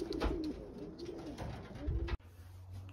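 Racing pigeons cooing in a loft, a few soft rolling coos repeating close by, then cutting off abruptly to quiet background hum.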